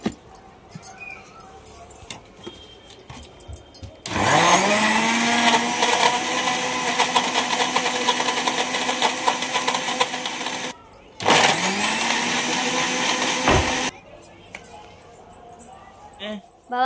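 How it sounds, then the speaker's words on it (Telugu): A mixer grinder whirs loudly while blending jamun fruit juice with milk and rock sugar, running in two steady bursts of several seconds each with a brief pause between, alone and without talk. "ఒకసారిగా మొత్తం మిక్సీ ఆడిచ్చేస్తున్నాను"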